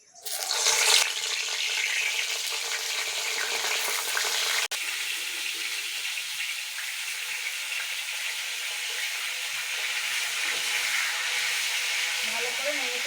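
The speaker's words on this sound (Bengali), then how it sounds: "তেল গরম হয়ে গেছে। এবার বেগুনগুলো দিয়ে দেবো।" Eggplant pieces for masala eggplant frying in a wok of hot oil, a loud steady sizzle with a sharp burst at the start, continuous and close throughout.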